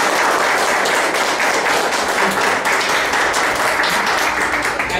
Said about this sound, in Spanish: Que se oigan los aplausos para ustedes.